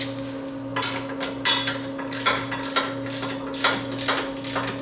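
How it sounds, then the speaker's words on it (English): A 3/4 ratchet wrench tightening a tow hitch pin on a 2013 Nissan Quest receiver, heard as a series of sharp metallic clicks and knocks in an irregular rhythm over a steady low hum, close and fairly loud. "Then I take my ratchet wrench, which is"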